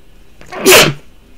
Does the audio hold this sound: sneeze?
yes